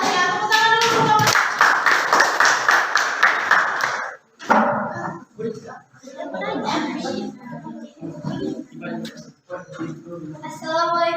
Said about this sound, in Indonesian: Tepuk tangan dulu kelompok.